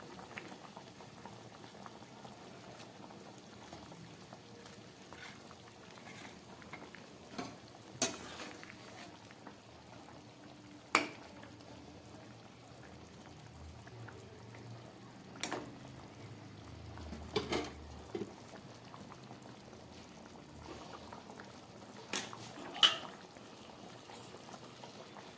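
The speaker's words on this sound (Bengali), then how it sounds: "আমার আলুর ঝোলটা ফুটে উঠেছে, এবার এর মধ্যে আমি মাছগুলো দিয়ে দিচ্ছি" Potato broth simmers at a gentle boil as ritha fish go in, a quiet bubbling bed punctuated by several sharp utensil clinks and light pot knocks.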